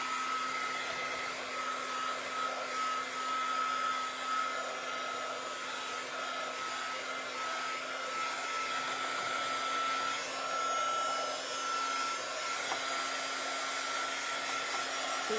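A hair dryer blows steadily and alone for the whole stretch, drying red velvet matte paint on a piece awaiting further painting, with a constant close whine and an even airflow roar.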